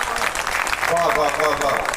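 A school audience claps for a poem at a Hindi kavi sammelan poetry recital, steady dense applause filling the room while a voice speaks over it.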